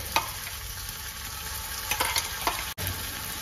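Ginger-garlic paste fries in hot oil for a jackfruit curry, giving a steady, even sizzle with a few brief scraping stirs.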